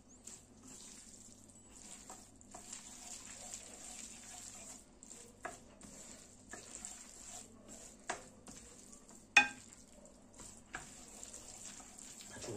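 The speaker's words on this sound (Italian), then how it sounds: "cominciamo così a incorporare il formaggio nella pasta che è ancora calda." Cheese being stirred into hot spaghetti with artichoke in a pan, soft wet squishing and scraping with occasional sharper clicks, quiet and close over a steady low hum.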